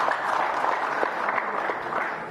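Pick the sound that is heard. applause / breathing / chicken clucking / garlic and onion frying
applause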